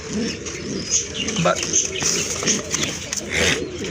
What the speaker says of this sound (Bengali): বিগ সাইজের এক জোড়া কবুতর